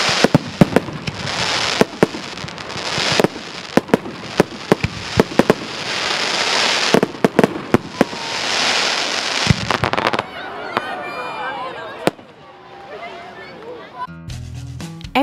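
Fireworks at a Canada Day celebration in Valemount crackle and burst in dense, rapid volleys, loud and continuous for about ten seconds before thinning out, with a voice talking over the display.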